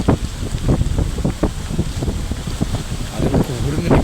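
Strong wind buffets the microphone at the seashore in front of a harbour where waves break over the sea wall, a steady loud roar with gusty swells throughout.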